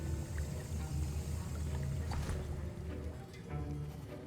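Stirring a potion in Hogwarts Legacy, a soft continuous liquid swishing and sloshing over a low ambient game music bed, moderately loud throughout.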